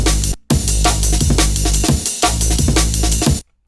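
Drum break blended with a heavily compressed parallel copy through a Shadow Hills mastering compressor on an aggressive drum preset; loud, dense punchy hits in a steady groove, with a brief dropout near the start and the loop ending abruptly.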